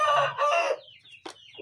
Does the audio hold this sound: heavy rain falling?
no